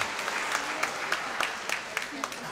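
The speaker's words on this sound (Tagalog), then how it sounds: "Pumalakpak ng malakas" Applause from a church congregation during a Christmas-season homily, a steady patter of clapping with soft crowd murmur, moderately loud and sustained throughout without a clear break.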